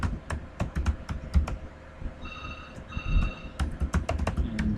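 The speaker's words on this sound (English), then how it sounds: "so I can type its IP address" Rapid, steady keystrokes on a computer keyboard, typed close up in short bursts with brief pauses between runs. The clicks sound alone, with no voices.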